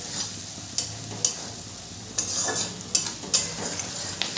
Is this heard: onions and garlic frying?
yes